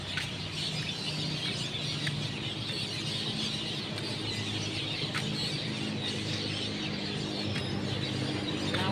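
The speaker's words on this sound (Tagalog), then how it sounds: "Daming ibon dyan, maingay oh." Many birds call at once outdoors on a sunny rural roadside, a dense and constant chatter of clucks and chirps with sharper calls cutting through now and then, loud and steady.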